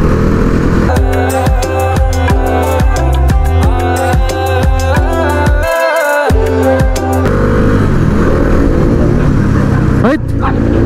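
A Bajaj Dominar 400 motorcycle engine revs hard off-road in loud, rhythmic surges that fill most of the stretch, then settles into a rougher idle, with a brief dropout midway.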